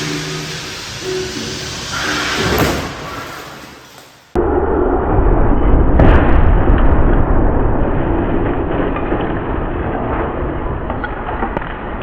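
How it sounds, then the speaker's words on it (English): A car striking a barrier in a high-speed crash test makes a loud, explosion-like impact, followed by sustained broadband roar and rumble; a brief dropout precedes the sudden, very loud burst, with no talking. "There is no way for a microphone to capture a truthful rendition of just how loud the explosion-like sound the car makes as it crashes is."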